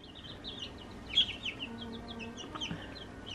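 Chickens cluck and chirp in a farm enclosure, with a rapid series of short, high calls from several birds and one louder squawk near the middle, over a low background hum.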